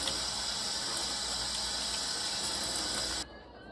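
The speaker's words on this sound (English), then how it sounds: "Wash any old leaves and dirt off of them." Tomatoes are rinsed under a steady stream of running tap water in a kitchen, a constant close gush that cuts off abruptly near the end.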